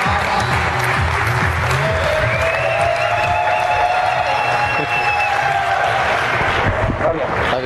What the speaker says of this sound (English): everybody stand up and give this guy a round of applause